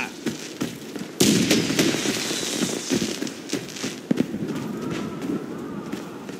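A grenade blast in the shooter game Warface, a sudden loud burst of noise that decays over a few seconds, followed by crackling and another sharp hit among ongoing gameplay sounds.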